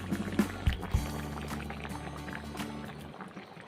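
Chicken simmers in a spiced Taliwang broth with shrimp paste on a traditional wood-fired clay stove, reducing down. A few soft knocks open it, then a faint, steady bubbling hiss continues alone.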